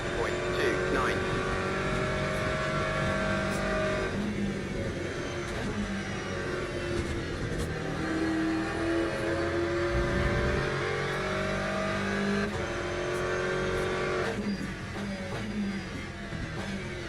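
Race cars in the Le Mans Ultimate sim, including a McLaren, a Ferrari and a Corvette, drone and rev continuously at close range with shifting engine pitch, someone talking over the engine noise.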